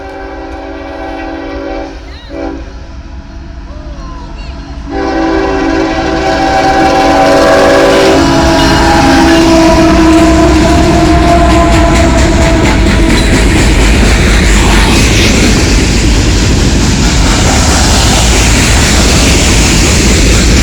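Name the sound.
CSX train passing with horn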